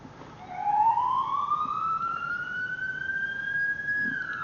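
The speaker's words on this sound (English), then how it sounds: "Whale yelp together." Sirens from an emergency vehicle in the EmergNYC game, set to wail and yelp together, sound as a single long rising tone that sweeps slowly upward and holds, loud and without speech.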